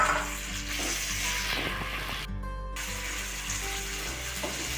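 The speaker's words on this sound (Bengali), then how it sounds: "এবার এটা ভাজতে হবে যতক্ষণ না কিশমিশগুলো ফুলছে।" Cashews and raisins that were soaked beforehand sizzle in a pan of hot oil while being stirred for Bengali-style veg fried rice, a steady close crackle with a brief burst of louder spatter midway.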